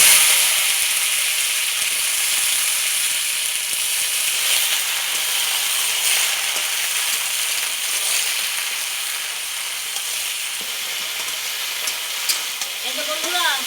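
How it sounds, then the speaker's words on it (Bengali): Vegetables sizzle in a little oil in a wok with a bay leaf and black cumin, a loud steady frying hiss with occasional stirring scrapes and brief faint talk. "কড়াইয়ের মধ্যে অল্প তেল দিয়ে দিলাম, একটা তেজপাতা, সামান্য একটু কালো জিরা দিয়ে দিলাম। সবজিগুলো আমি ছেড়ে দিচ্ছি।"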